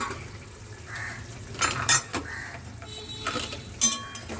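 Metal clanks and scrapes of a lid being set over a cooking pot of prawns, a few sharp clatters and a double knock near the middle and another near the end, close and alone without talk.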